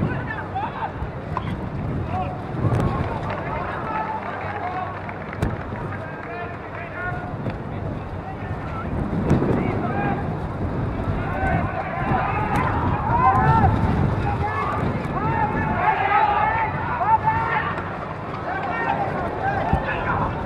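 Steady wind gusts buffet the microphone aboard a sailboat out on the water, a continuous roaring rush that swells and eases over time, with a voice talking faintly now and then.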